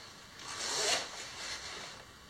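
Clothing zipper on a jacket being worked, a quiet close rasping pull with a couple of short swells over about two seconds.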